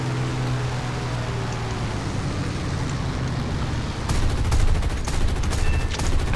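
In the War Thunder air combat game, a plane's guns fire in rapid bursts under a steady engine drone. A louder, denser volley of gunfire breaks in near the end.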